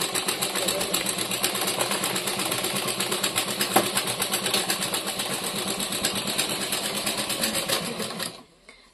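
A foot-operated treadle sewing machine runs steadily and close by, its needle and mechanism making a fast, even clatter for about eight seconds before stopping abruptly near the end.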